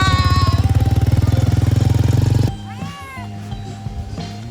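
A loud rhythmic engine chug gives way to a hungry cat meowing several times, its wavering cries clear and nearby over a low hum, in Anilao, Philippines.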